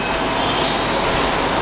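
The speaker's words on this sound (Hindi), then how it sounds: "तो ये देखो यहाँ पे मेट्रो जा रही है" A Mumbai Metro Line 2A train rolls past near Devipada station, a loud continuous roar of wheels and motors with a brief rising squeal, heard close by and without speech.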